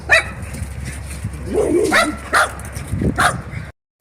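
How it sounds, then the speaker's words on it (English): Several dogs bark in short, loud bursts close by, with sharp yips and a whimper spaced irregularly over a few seconds before cutting off abruptly. "Oh, who knows what they were barking about now."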